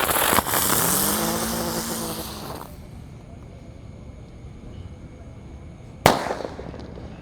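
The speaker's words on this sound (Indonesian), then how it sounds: "Lanjut di sini ada mercon Terate yang Tor yang warna merah. Kita nyalakan." A red Terate roman candle firework is lit at night, giving a loud hissing, whistling rush for a couple of seconds, then quiet background, followed by a sharp sudden crack from a burst, heard fairly close.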